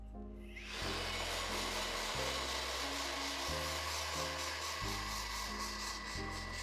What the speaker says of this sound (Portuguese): Vou usar o secador aqui somente para ajudar a fixar melhor e direcionar melhor o fio